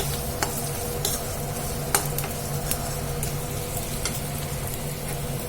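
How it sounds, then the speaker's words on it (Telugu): Sliced onions sautéing in a pan for betel leaf rice, a steady close sizzle with occasional stirring scrapes and spoon taps, no talk. "ఇప్పుడైతే ఉల్లిపాయ కూడా మంచిగా మగ్గిపోయింది"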